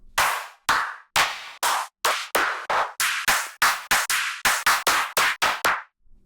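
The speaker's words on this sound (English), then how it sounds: "here's the claps and stuff" A run of sharp, punchy clap drum samples from a drum sample pack, about fifteen separate hits played one after another with short gaps, loud and dry with no talking.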